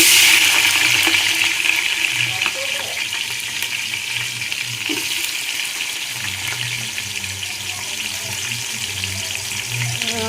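Onions sizzle in a pan for biryani, with a steady, loud hiss of frying oil running throughout and faint stirring knocks underneath.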